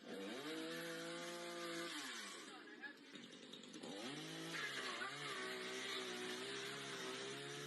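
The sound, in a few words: chainsaw cutting through a ceiling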